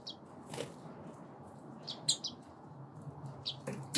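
Brief wing flutters and a few high chirps over a steady low background hum, with a soft rustle as a hen bird flies into its cage and lands nearby.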